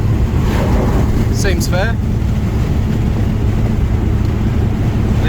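Morris 1100S cruising at highway speed on an Australian road after a carburetor adjustment, with steady broadband road and wind roar throughout and brief speech from a person inside.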